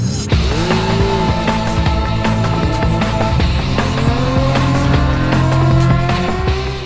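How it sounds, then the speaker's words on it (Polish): Race car engines roar loudly and continuously at a quarter-mile drag racing event, pitch rising and falling as several cars pass, with occasional tire squeals. "jest prędkość, jest ryk silników"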